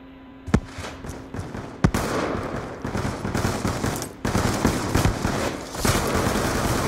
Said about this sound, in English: Why is your executioner full auto, Mr. Phase Mod?